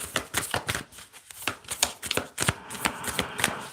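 Tarot cards being shuffled for a card pull, a run of quick riffling bursts in a close, steady rhythm with short pauses between, no talking.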